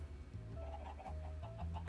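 Iron chickens in Minecraft Sky Factory 3 cluck in a quick run of soft clucks and chirps, close but faint, over a low hum.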